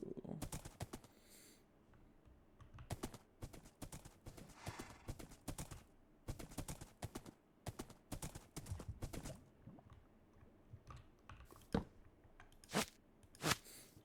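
Horse hooves clip-clop in Minecraft, a run of quick, crisp game hoofbeats in irregular bursts, fairly close and loud, with a few brief animal and bird-like game sounds mixed in and no talking.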